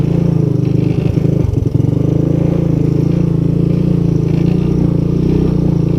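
A Honda ATC200S three-wheeler ATV engine running steadily, a low continuous putter at constant loudness with a brief clattering patch partway through, close and alone.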